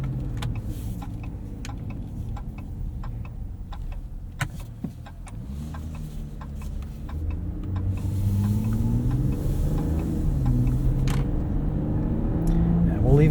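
A 2025 Ram RHO pickup driven in sport mode, heard from inside the cab: a low engine drone that climbs and swells in pitch and loudness as it accelerates onto a ramp, with a voice speaking at times over the rumble.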